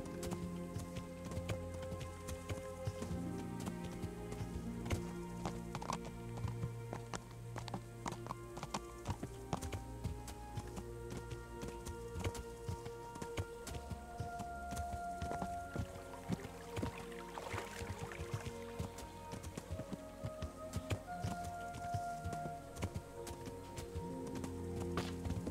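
Rhythmic hoofbeats of a galloping horse in Kingdom Come: Deliverance run continuously, mixed with layered game music and ambient noise throughout.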